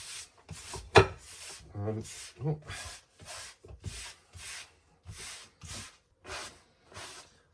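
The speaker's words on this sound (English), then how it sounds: "I'm going to start by just giving it a good brush, probably with the stronger bristled side of this brush" A stiff-bristled brush is drawn over a felt Borsalino hat in a series of short, close, rhythmic scratchy strokes with brief pauses between them.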